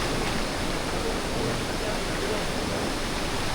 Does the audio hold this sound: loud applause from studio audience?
no